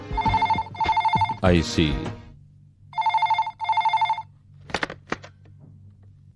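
A house telephone rings in paired bursts, two at the start and two more a couple of seconds later, with a voice speaking briefly between the rings.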